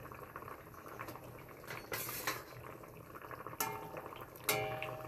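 Fish added one by one to a pot of boiled potatoes, with light clinks of utensil on pot and a few sharper clattering knocks over a low steady simmer, close by and fairly quiet.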